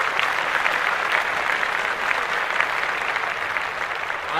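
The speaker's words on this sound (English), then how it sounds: "Let's clap that up, Robbie O." Steady applause from a crowd carries on for several seconds, dense and even, with no voices over it.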